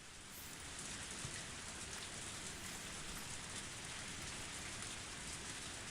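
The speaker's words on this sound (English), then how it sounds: "Only the sound of the pouring rain filled up the silence." Steady pouring rain in Higurashi: When They Cry, a dense, even hiss of drops on surfaces that continues unbroken throughout.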